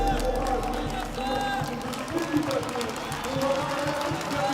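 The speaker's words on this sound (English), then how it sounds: "And he gets a huge reception from this crowd." A large crowd at an esports football championship final applauds and cheers a player in a broad, steady wash of clapping and voices, with commentary layered over it.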